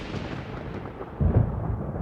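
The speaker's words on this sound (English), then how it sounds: "Paimon hears thunder!" Thunder in the Genshin Impact video game: a low, muffled rumble that swells after about a second and rolls on steadily, with no voices.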